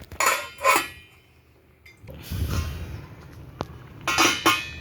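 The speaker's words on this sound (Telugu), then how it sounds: "ఒక 5 minutes మనం మూత పెట్టేసుకుందాం" Metal pots and utensils clatter and clink at close range in a kitchen, with a lid set onto a cooking pot among several distinct knocks and scrapes spread over the moment.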